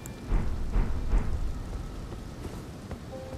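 A thunderstorm in the Elden Ring video game brings steady heavy rain with low rumbling thunder and a few soft booming pulses early on, a dense wash of noise with no speech.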